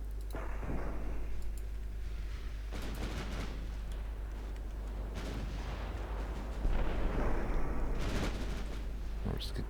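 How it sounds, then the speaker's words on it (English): Naval gunfire from cruisers in the warship game Ultimate Admiral Dreadnoughts brings several heavy booming shots spaced a few seconds apart over a low rumbling background, one louder blast near the end, with no voice present. "We're just gonna keep firing at the heavy dock cruiser now."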